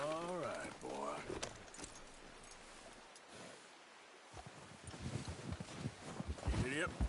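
Horse hooves clip-clopping in Red Dead Redemption 2, a soft rhythmic patter under game music and a rider's voice, with a brief snort or neigh, fairly quiet overall.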